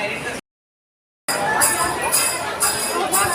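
A packed crowd of pilgrims queuing at the Tuljapur temple, a dense murmur of chatter that cuts out briefly and resumes, with someone talking over it.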